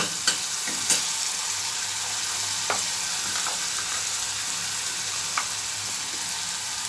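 Onion sautéing in a pan for a bitter gourd dish, a steady broadband sizzle throughout with a few faint clicks of stirring, close and continuous, no talking.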